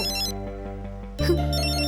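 A mobile phone ringtone plays a bright electronic melody, pausing briefly before resuming louder, with no voices over it.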